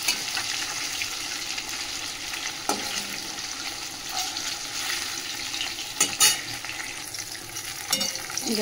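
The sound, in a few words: bhetki fish frying in a pan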